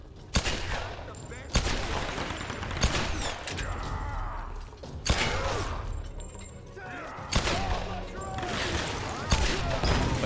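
Pistol shots crack out in Tomb Raider (2013), sharp loud reports spaced a second or two apart over busy combat noise, with a voice speaking now and then between them.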